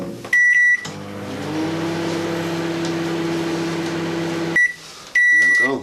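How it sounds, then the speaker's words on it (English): A microwave oven heats a bowl of stirred scrambled egg mixture, a steady low hum running for several seconds between closing beeps at the start and the end. "Then back in the microwave for a minute."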